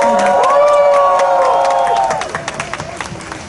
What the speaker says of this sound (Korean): 여러분 힘찬 박수 부탁드리겠습니다.